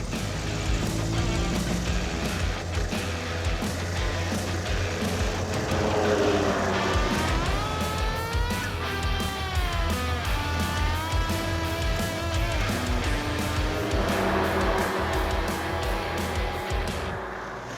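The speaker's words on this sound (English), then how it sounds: "What is that noise? It sounds like the clutch coming apart." An AMC Pacer engine drones steadily throughout, with a rough, grinding mechanical whine from the clutch rising and falling over it while driving.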